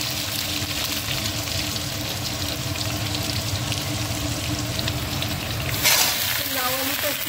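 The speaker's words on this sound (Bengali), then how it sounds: "লাউ আলুটা একটু ভেজে নেব" Bottle gourd and potato fry in a pan over a dried red chilli tempering for a lau-alu curry, giving a steady, close sizzling hiss that runs unbroken throughout, with a brief louder burst near the end.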